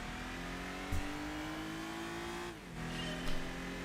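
An old Infiniti engine revs steadily in Gran Turismo 4, a constant droning drive with a pitch that climbs and then drops at a gear change, plus brief thumps.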